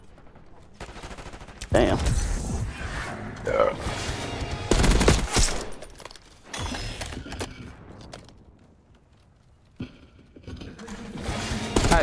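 Bursts of rapid automatic gunfire in the Call of Duty Black Ops 6 video game, loud and close, come in several volleys separated by quieter stretches, with a man's brief spoken remark between them.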